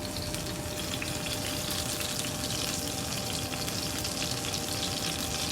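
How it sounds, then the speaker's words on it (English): Minced garlic sizzles steadily in hot olive oil, a loud continuous frying hiss with no break, alone without talk. "put a little bit of garlic in my olive oil just to test it to see when my oil's ready"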